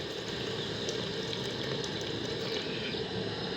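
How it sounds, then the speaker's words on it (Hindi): Water poured into a pan of tinda masala, a spiced Indian round-gourd curry, making a steady, close, continuous gushing and splashing rush that fills the whole moment with no voices. "एंड अब दूसरा पानी हम इसमें डालेंगे एंड और इसको पकाएंगे।"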